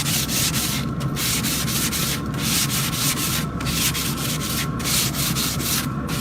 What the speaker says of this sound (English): you can clean your grates like this. It's a ball of aluminum foil.